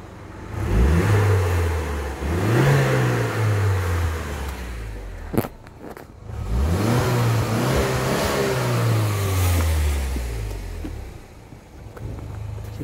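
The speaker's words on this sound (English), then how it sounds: "Give the engine a little bit of a rev so you can hear the engine" A 2008 Saab 9-3 Vector Sport 1.8t engine revs up twice, climbing and falling in pitch each time, with a sharp click between the runs; loud and close, no talking.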